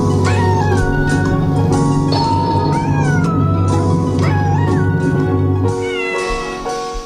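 A domestic cat meows loudly and close up, several drawn-out rising and falling calls in a row over a steady low hum, with the last call fading toward the end.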